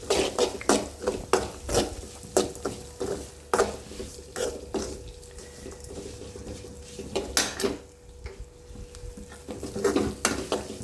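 Dried red chillies and other ingredients stirred in a metal pan over a low flame for a Kerala jackfruit-seed stir-fry, with repeated sharp scraping and clinking of a spoon against the pan over a soft, steady sizzle, close and without talk.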